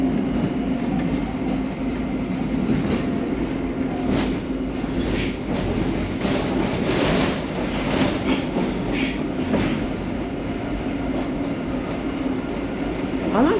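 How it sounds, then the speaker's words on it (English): A Paris Metro train on line 3bis/7bis runs steadily throughout, with a continuous low rumble, rhythmic wheel clatter over rail joints and faint higher squeals, close and loud with no talking. "I like these trains."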